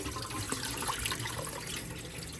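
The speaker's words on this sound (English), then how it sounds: "So we're gonna discard that water" Rinse water poured off beef being cleaned for a Caribbean-style stew, a continuous splashing, trickling pour into a sink, moderately quiet and steady.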